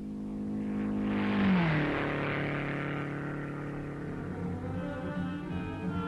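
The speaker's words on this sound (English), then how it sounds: "The car is running beautifully." MG record car running on the Bonneville Salt Flats in 1956, a steady engine drone with a pitch drop and swell early on, then a sustained moderate hum that fades slightly, with no voices.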